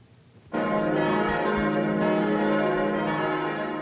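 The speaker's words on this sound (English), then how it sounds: "As bells ring through a city in shock" Church bells peal through a city, a loud, sustained ringing that starts abruptly and holds steady with rich overlapping tones.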